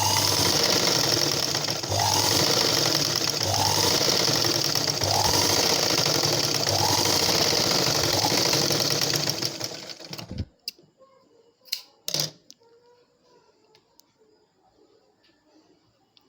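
Sewing machine stitching the side edge of a blouse, a steady rapid mechanical whirr and clatter running close for about ten seconds before stopping, followed by a few faint clicks and handling noises.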